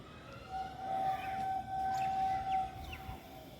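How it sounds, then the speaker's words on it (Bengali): A train passing near a rooftop in the evening, heard as a long, steady, whistle-like tone of about two seconds that stops briefly and resumes, over a low rumbling background. "ট্রেনের আওয়াজ হচ্ছে"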